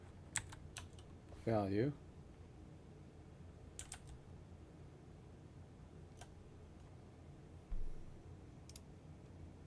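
Sparse, quiet keystrokes on a computer keyboard, a few isolated clicks scattered across the stretch, with a single word spoken briefly amid low room hum.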